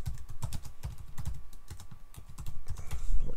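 Quick, irregular clicks of fingers typing a server host name on a computer keyboard, close and crisp, with bursts of keystrokes and brief pauses between them.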